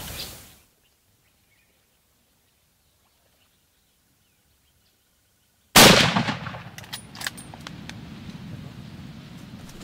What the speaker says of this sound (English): Paul delivers a perfectly placed shot and the bull is down right in the middle of camera shot.